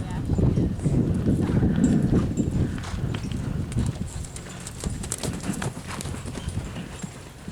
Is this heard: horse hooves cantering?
yes